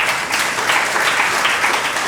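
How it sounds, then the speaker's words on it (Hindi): Dense, steady applause from a gathering at a religious discourse, loud and continuous throughout the short stretch with no break. "ताली तो बजाओ"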